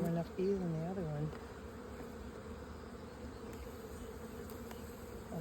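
Honeybees buzz steadily in an open hive as a beekeeper works a nucleus colony, a dense, close, continuous drone that runs throughout, with a short burst of voices at the very start.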